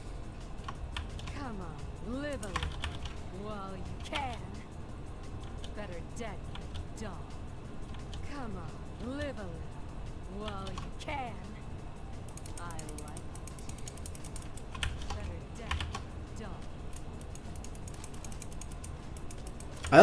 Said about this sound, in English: Yeah, that's a mechanical keyboard.